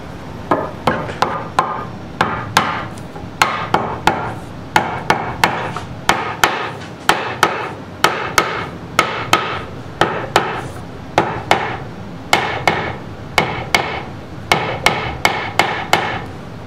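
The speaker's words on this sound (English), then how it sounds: "I pound it into place with my muzzleloader mallet." A wooden mallet pounds a muzzleloader barrel into a wooden stock, sending a long series of sharp, close thwacks in quick groups with brief pauses between, loud and alone.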